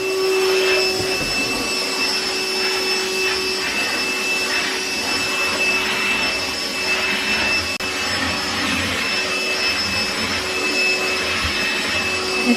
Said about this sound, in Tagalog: Kaya tayo nag-vacuum.